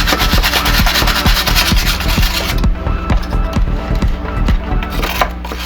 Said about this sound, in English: Going to take one of these wire brushes, and these are great for ABS filament.